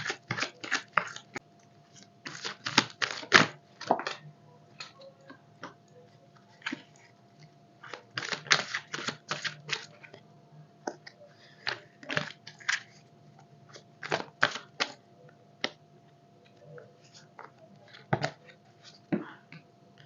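A tarot card deck being shuffled: crisp papery riffles and snapping card flicks in irregular clusters of quick bursts, close and clear, with short pauses between rounds and no voices.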